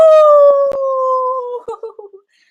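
Children imitate wolves with a loud, sustained howl that glides slowly downward, then break into a few short wavering yips before it cuts off into silence.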